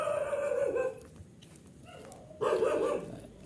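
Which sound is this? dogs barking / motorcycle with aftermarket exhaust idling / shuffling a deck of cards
dogs barking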